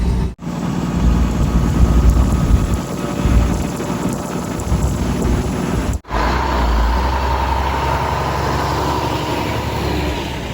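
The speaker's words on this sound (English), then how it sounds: "it's a little windy right now and I'm not using my good microphone" Heavy wind buffeting a cheap microphone outdoors, a loud continuous low rumble with brief dropouts, no voices.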